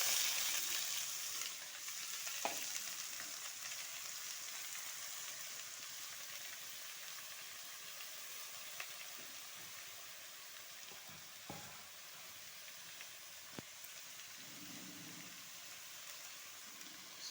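Chickpea greens and green chillies frying in a pan, a steady close sizzle with a few sharp clicks and scrapes of stirring, no voices.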